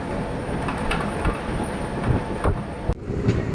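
Simhadri Express train running near Palakollu railway station's outer signal, a steady continuous rumble and rattle of the carriages with faint clicks throughout, no voices.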